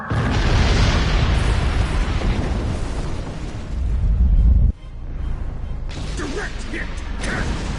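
Weapons-hit explosion in the Star Trek Online space combat game: a loud, sustained rumbling blast that cuts off abruptly, followed by crackling debris and sci-fi effects.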